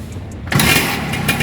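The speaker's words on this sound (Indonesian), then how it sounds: "Sekali engkol hidup." Suzuki Satria Hiu or Lumba motorcycle kick-started: a short quiet stretch, then the engine catches abruptly and settles into a close, steady running rumble.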